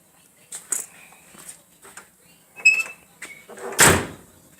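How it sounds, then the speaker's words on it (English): A solid Cutlass 442 car door thunks shut with a heavy low impact near the end, after a few lighter clicks and handling noises. "doors closed solid."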